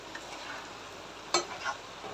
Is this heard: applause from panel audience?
no